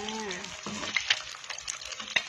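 Egg frying in a pan in a home kitchen, a soft steady sizzle with small stirring scrapes and brief clicks, close and fairly quiet.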